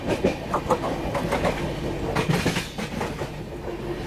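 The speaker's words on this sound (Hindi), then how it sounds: "ओवरटेक करेंगे हम लोग गोंडवाना एक्सप्रेस को" Train overtaking the waiting Gondwana Express at an Indian railway station, a steady rumble with rhythmic clickety-clack of wheels over rail joints, moderately loud and continuous.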